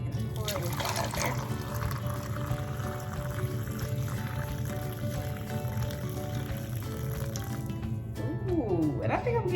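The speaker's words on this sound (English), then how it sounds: "So I'm about to go ahead and pour this in." Tea poured through a strainer into a small pot gives a steady trickling pour running throughout, close by, with a low hum underneath and a brief clatter near the end.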